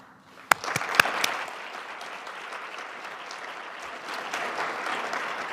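A gathering at a Canadian Club speaking event claps after a speech: a couple of sharp close claps at the start, then sustained, even applause from a sizeable crowd that holds steady and builds slightly toward the end.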